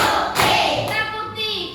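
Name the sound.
children clapping hands in a rhythmic clap game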